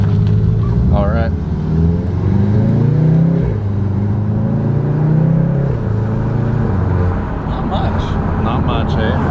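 A Golf R with its exhaust resonator deleted is driven. The engine and exhaust make a fairly subdued drone that rises and falls in pitch with revs, and voices briefly speak over the cabin noise.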